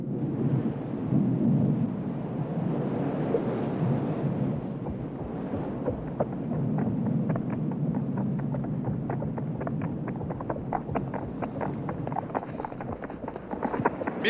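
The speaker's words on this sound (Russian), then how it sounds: "надвигается буря" Heavy rolling thunder from an approaching storm, long deep rumbles swelling and fading across the whole stretch, with gusty noise and faint crackling toward the end and no talk.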